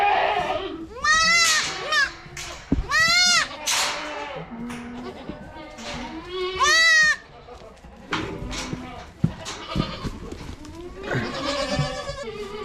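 Goats in a walking herd bleat loudly and repeatedly, several wavering cries overlapping close by, with short gaps and some rustling between calls.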